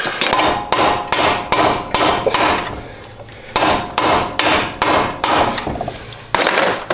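Repeated hammer blows ring out on the front suspension of a Honda Civic during a coilover install: about ten loud, sharp metallic strikes in uneven bursts with short pauses, close up and without talk.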